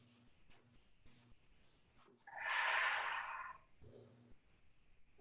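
One long, soft exhale of breath swells and fades during an extended child's pose in a Latin dance yoga session, preceded and followed by quiet background music.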